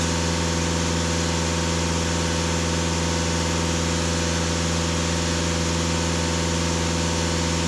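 A VW Golf 2.0 TDI diesel engine runs with a steady, loud, unchanging drone and even mechanical hum, close by, with no audible rise or fall in revs and no speech.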